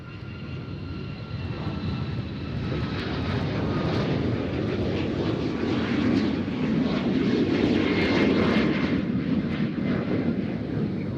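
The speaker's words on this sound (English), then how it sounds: "WestJet has just landed and taxied on the newly corrected 20 left" A WestJet airliner taxiing after landing on runway 20 left at Nashville International Airport: a steady, loud engine roar with a broad rumbling hum, continuous and close, with no voices.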